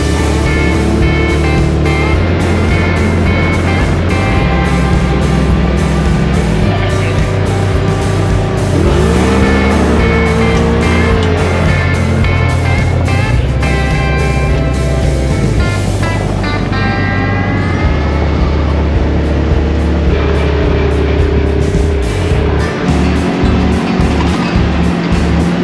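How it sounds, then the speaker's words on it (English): A rented side-by-side off-road vehicle riding along, its loud engine droning continuously and shifting pitch as it revs up and down, close and unbroken throughout. "We rented a side-by-side."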